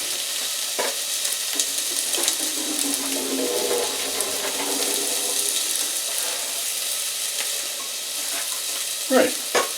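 Steady rushing pour of water draining out, close and continuous, with a few clanks of a pot near the end.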